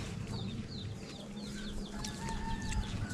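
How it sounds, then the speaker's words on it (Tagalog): Chickens cluck and chirp repeatedly over a constant outdoor hum on a farm, scattered calls near and mid-distance, with a drawn-out higher call toward the end. "Nakatuwa tayo sa lahat ng manok na yan."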